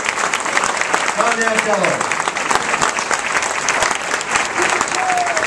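A hall of fame dinner audience applauds and cheers loudly and steadily throughout, with a voice briefly heard over the sustained clapping.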